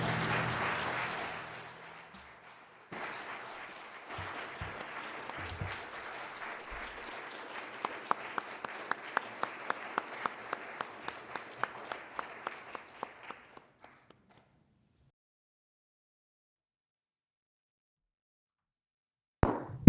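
A church congregation at a Sunday service applauds, starting full and broad, then thinning to scattered distinct claps that trail off into silence by about fourteen seconds.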